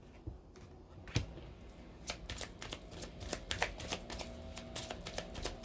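Tarot cards being shuffled by hand, a close, quiet run of crisp riffling flutters and light taps repeating irregularly, with no speech.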